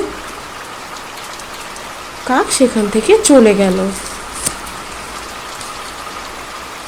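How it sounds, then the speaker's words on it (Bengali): Heavy rain falls steadily in a Bengali bird cartoon, a constant hiss running under a short stretch of narration. "বৃষ্টি অনেক জোরে পড়ছিল"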